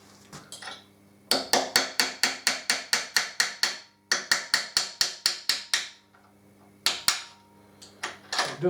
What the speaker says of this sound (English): I'm going to have to tap that round a bit, so give me some punch.